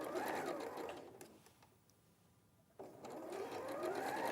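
A sewing machine stitches a half-inch dress seam in two loud, steady runs with a quiet pause between them, close up and without talking.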